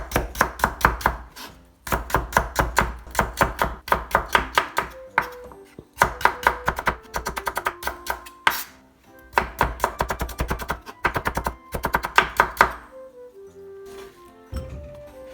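A kitchen knife chops vegetables on a cutting board for Japanese side dishes, with fast, even bursts of crisp knocks separated by short pauses, close and clear and with no talking.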